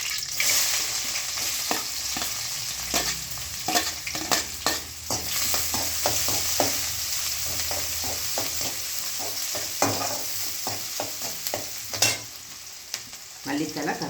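Sliced onion sizzles steadily in hot oil with fennel seeds, cinnamon and cloves for a soya gravy, a close, continuous crackle broken by frequent scraping stirs of a spoon against the pan.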